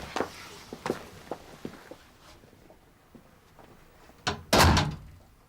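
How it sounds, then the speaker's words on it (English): A door being shut indoors, one loud solid thud near the end after a few lighter knocks and footstep-like taps, with no talking. "Want the door shut?"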